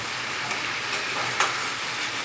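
Garlic frying in hot mustard oil gives a steady, close sizzle, with a few soft stirring scrapes and pops.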